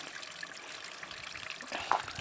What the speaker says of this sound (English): This is the water from the spring